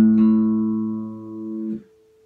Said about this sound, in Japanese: 実音チューニングをするときにこうやって